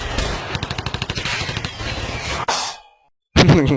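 Rapid bursts of gunfire from a shooting video game, a fast rhythmic volley of shots followed by a sharp cutoff into silence and then one more loud blast.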